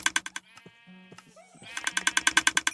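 Sheep bleating in Minecraft, a few short wavering bleats in the middle set against rapid rhythmic clicking bursts before and after, close and fairly loud.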